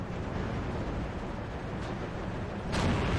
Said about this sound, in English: Up here on the ridge, you can see Panzer's Panther Stellung firing away